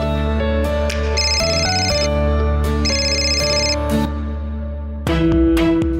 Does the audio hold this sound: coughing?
no